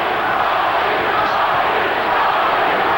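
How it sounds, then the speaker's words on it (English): A boxing arena crowd roars steadily for the champion near the end of a title fight, a dense, loud, continuous wash of cheering with no breaks. "Crowd begins to try to lift the champion."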